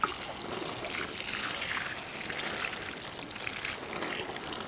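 A steady stream of water splashes over the charging connector of a Nissan Leaf electric car, a constant close hiss and patter lasting several seconds without any talk.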